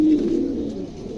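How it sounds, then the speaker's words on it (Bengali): A pigeon coos in a loft, a soft low throaty call near the start that trails into quieter murmuring, fairly faint and close with no speech. "কবুতরটার রাগ বেশি, খালি ফুলে থাকে গা মধ্যে"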